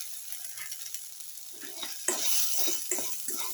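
Shallots and bell pepper sautéing in a pan, a quiet sizzle that swells into louder frying with a few scraping stirs toward the end.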